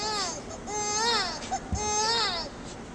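A voice imitates a wailing baby, two rising and falling cries with a short catch between them, close and loud.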